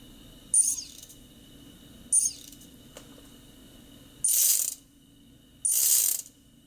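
Small brushless motor on a mini hex drone, driven by an ESC, giving short high-pitched whirring bursts with brief clicks between them. The sound is quiet and isolated in a still room.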